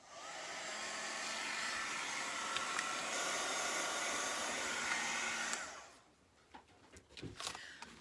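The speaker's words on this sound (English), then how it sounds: "So I'm going to give that a blast with the heat gun." A heat gun blows on vellum in a steady, loud rushing whoosh for about five seconds, then cuts off, leaving faint taps and handling noises.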